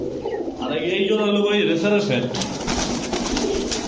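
Pet pigeons, colourful racer and fancy breeds kept in pairs, coo in soft, repeated rolling calls nearby, and someone talks over them partway through.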